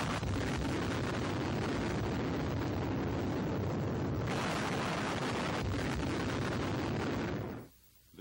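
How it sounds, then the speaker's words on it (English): Naval bombardment of Lae, New Guinea, in 1943, heard as a continuous, loud, dense roar of shellfire and blasts through old newsreel sound. It runs unbroken for about seven seconds, then cuts off abruptly. "Now the drive is on against Lae, and the attack opened by a naval bombardment."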